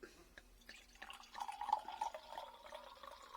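Yarlington Mill cider, a lightly sparkling traditional cider, poured into a glass: a few soft drips, then a steady gurgling stream that swells and trickles on, close and quiet, with no talk.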